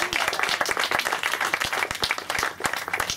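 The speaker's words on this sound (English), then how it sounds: "I'd like a big round of applause for Team Joe" A small audience applauds the catering team at a wedding, with clear individual claps in a brisk, uneven rhythm close by and no voices.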